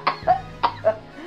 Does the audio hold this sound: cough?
yes